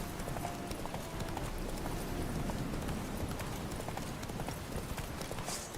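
Horse hooves clip-clop steadily at a gallop in The Witcher 3, a continuous rapid rhythm close by with game ambience underneath throughout.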